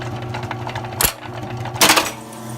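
An electric grommet, snap, button and rivet machine hums steadily nearby, cut by two sharp, loud mechanical clacks about a second apart.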